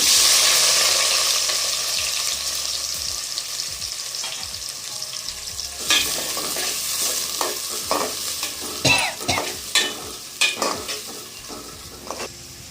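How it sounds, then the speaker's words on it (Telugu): Two large onions fry in hot oil in a pan for a prawn and chana dal curry, a steady loud sizzle fading slightly as a spatula stirs with scraping clinks toward the end. "ఆయిల్ ఏడైతే ఉల్లిపాయలు వేసుకున్నామండి"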